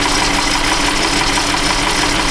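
A Chrysler Town & Country with a 4.0 engine that runs rich idles while warming up, a loud, steady, even hum with no changes in pace and no talking.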